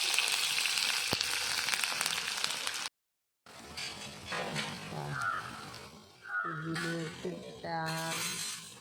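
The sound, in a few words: turmeric frying in oil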